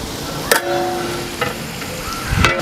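Fennel seeds dropped into hot oil in a large pot for 10 kg brinji rice, a sustained sizzle with stirring scrapes and clanks of a ladle against the vessel.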